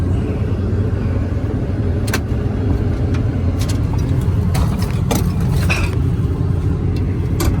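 A junkyard garbage truck's engine idles loudly and close by, a steady low rumble with a few sharp clanks and rattles breaking through now and then.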